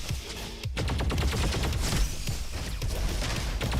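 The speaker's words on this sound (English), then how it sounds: "It's the same weapon. Blast SMG." Rapid bursts of Blast SMG fire in a video game, a dense, sustained rattle of shots close up, continuing through the whole stretch with no speech over it.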